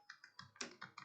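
Quick, even keystrokes on a computer keyboard while C code is entered, about six crisp taps in a steady rhythm, close and quiet with no talk.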